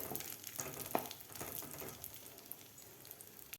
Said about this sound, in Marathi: थोडेसे फ्राय करायचे आहेत आपल्याला एक मिनिटभरच फ्राय करून घ्यायच्या ड्रायफ्रूट